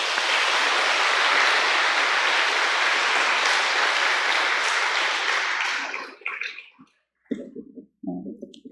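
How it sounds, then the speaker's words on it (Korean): A church congregation at a retreat gathering gives a full, steady round of applause that thanks the pastor, filling the hall for about six seconds before thinning out into a few scattered claps and quiet room noise. "귀한 말씀 주신 목사님께 다시 한번 감사의 박수를 드리겠습니다."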